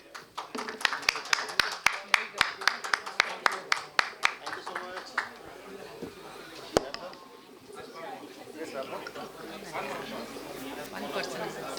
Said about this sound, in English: My friends, a huge round of applause for our panelists for the evening.